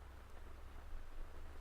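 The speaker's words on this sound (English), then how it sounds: "we can hear the heavier fall of rain on the canvas" Heavy rain drums steadily on tent canvas, a soft continuous hiss and patter with a low rumble underneath, faint and even throughout.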